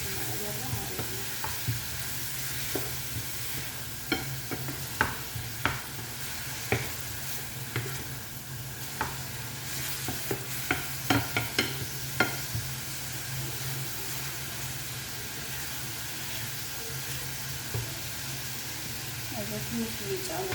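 Sliced onions fry with a little salt in a pan, giving a steady loud sizzle with scattered sharp clicks and scrapes as they are stirred, and a voice talks at times.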